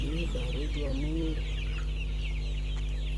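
Chickens cluck in a postal-type rearing coop for birds over two weeks old, a busy flock of overlapping clucks and short calls, close and steady over a constant low hum.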